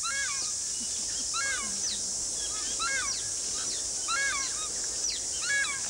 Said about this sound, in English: You can just hear the health of the ecosystem in all these birds that are mostly gone from New Zealand forests.